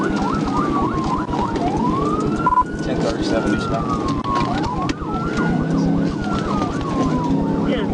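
A police car siren wails and yelps up and down over a loud engine roar during a pursuit in Arkansas, with a radio voice speaking briefly over it.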